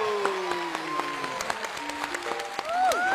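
Studio audience applauding at a Chinese television show recording as students are welcomed onto the stage, steady dense clapping throughout, with faint voices and musical tones underneath.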